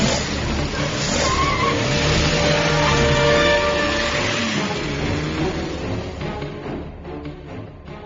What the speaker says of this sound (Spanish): ¡Estúpido coche! ¡Arranca!